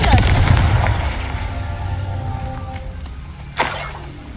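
A Confringo fire spell blast in the Hogwarts Legacy video game, a loud booming burst at the start that rumbles and fades, with a sharp crack near the end.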